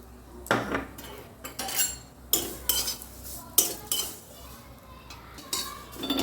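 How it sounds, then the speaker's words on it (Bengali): Vermicelli (semai) frying in hot ghee in a pan, with a spatula scraping and clinking against the metal in irregular strokes over a soft sizzle. "এখানে আমি সিমইটা ভেজে নেব।"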